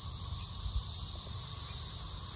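Cicadas in a garden, a loud, unbroken high-pitched drone that stays steady from start to finish over faint low rumble, with no voices.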